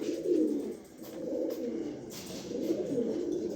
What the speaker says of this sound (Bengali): খুব সুন্দর এক জোড়া কবুতর।